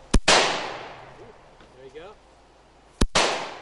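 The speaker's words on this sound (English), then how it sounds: "how to fire a semi-automatic weapon" A Russian semi-automatic assault rifle fires two sharp, loud outdoor shots about three seconds apart, each with a long fading echo, with a brief voice murmur between them.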